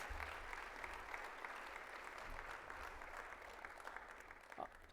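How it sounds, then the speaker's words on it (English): Audience applause at a general session of a national agricultural extension conference, a steady, even wash of clapping from a large seated crowd that stays at fairly low level, distant and diffuse, through the whole stretch. "another big round of applause"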